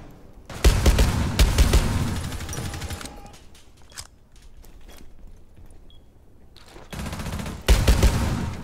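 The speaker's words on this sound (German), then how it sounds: "Das ist ein Schuss auf dem Balkon" Rapid bursts of automatic gunfire in the tactical shooter Rainbow Six Siege, two loud volleys at the start and end with scattered single shots and quieter stretches between.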